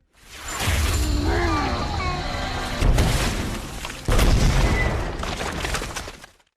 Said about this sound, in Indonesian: Seketika Grant pun langsung meledak.